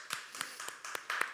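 Scattered applause fills a church, a handful of quick claps at a fairly even pace, light and slightly distant rather than a roaring ovation.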